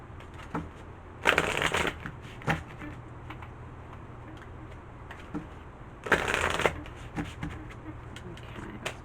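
Tarot cards are shuffled close up in two short brisk riffling bursts with softer card handling between them, quiet room tone throughout.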